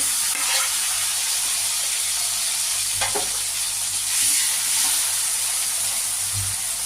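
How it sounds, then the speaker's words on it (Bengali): Onions browned in oil with chopped tomato added, frying in a pan for a spicy pabda fish curry, giving a loud, steady close sizzle and hiss with occasional soft stirring clinks, no voices. "পেঁয়াজগুলো লাল লাল হয়ে এসেছে এবার আমি টমেটো কুচি দিয়ে দেবো"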